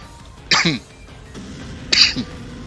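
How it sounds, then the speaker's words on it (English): Two short coughs a little over a second apart, close and fairly loud, with quiet room sound between them. "Sorry about the cough."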